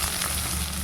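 Onion and ginger frying in a hot steel pan, giving a dense, loud sizzle that stays even and close for under a second with no voices.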